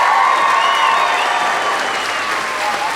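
Audience applause at the close of a live comedy show, a dense, steady wash of clapping from a large crowd that stays loud and even throughout.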